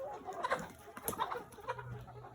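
Soft, irregular clucking from a few 17-week-old chickens nearby, with scattered short calls and light rustling in the background.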